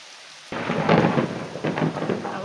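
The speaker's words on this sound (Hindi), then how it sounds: "आवाज़ सुन रहे हैं बिजली गरजने" A sudden roll of thunder breaks in over steady, heavy rain, rumbling loudly for a couple of seconds.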